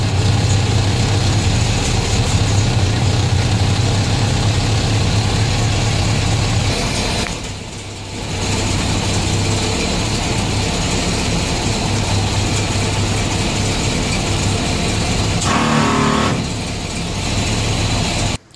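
Willys Jeep engine idling right after a cold start, a loud, close, continuous low rumble with a steady throb, briefly dipping twice as if the throttle eases off.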